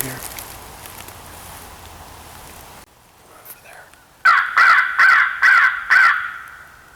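Five loud, close crow caws in a steady series, coming after a stretch of rustling and footsteps outdoors during a winter small game hunt.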